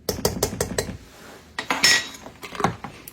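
A pot lid clatters in a home kitchen, first as a quick run of four or five rattling clinks, then a brief pause and a louder metallic clang with a last clink, up close and with no talk.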